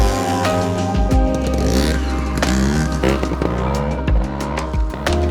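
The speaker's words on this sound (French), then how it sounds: "On va aller faire de la moto de trial." A trial motorcycle engine revs loudly and close by, its pitch rising and falling with throttle blips and short drops, with no talking over it.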